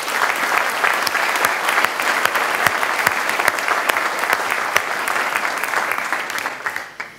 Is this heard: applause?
yes